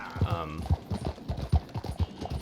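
Horse hooves clip-clop in a steady rhythm during a ride in Red Dead Redemption 2, with someone talking over the footsteps throughout.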